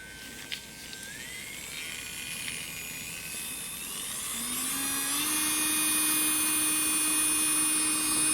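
A Madenia electric nail e-file drill spins up to 30,000 RPM, its thin high whine stepping upward in pitch and growing steadily louder before holding a constant tone, close and alone.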